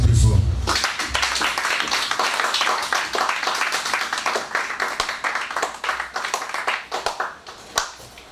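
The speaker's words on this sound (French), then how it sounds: "Si vous êtes là, applaudissez plus fort." Church congregation clapping hard and fast, with crisp, close handclaps in dense rapid bursts that thin out and grow more scattered toward the end.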